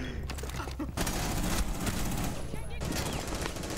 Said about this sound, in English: Oh, Juan threw the nade at me